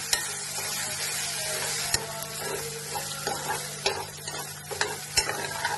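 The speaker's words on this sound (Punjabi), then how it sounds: "ਆਪਣੇ ਕਰੇਲੇ ਪੱਕਦੇ ਨੇ 2-3 ਮਿੰਟ ਹੋ ਗਏ" Sliced bitter gourd (karela) with onion frying in a pan, a steady close sizzle broken by scraping stirs and a few sharp taps of the spatula, with no voices.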